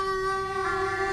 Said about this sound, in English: 3 draw, half-step bend.